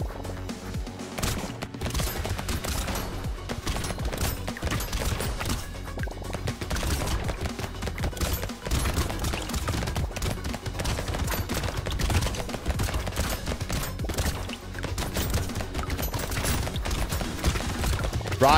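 Weapons fire from an SMG, rocket launcher and laser gun in the video game Brotato, a constant, dense clatter of rapid shots and hits that runs without pause.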